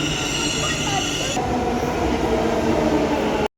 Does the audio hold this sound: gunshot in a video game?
no